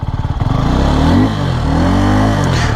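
A Suzuki Gixxer 250 SF motorcycle engine idles with a rapid putter, then revs hard and loud up close, pitch climbing and falling through a couple of throttle blips.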